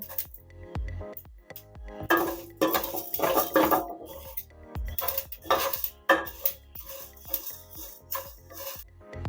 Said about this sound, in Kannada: ಇದನ್ನು ಹುರ್ಕೊಳ್ಳೋಣ ಹಾಗೆ ಇದಕ್ಕೆ ಕರ್ಬೇವಿನ ಸೊಪ್ಪು ಕೂಡ ಹಾಕೋತೀನಿ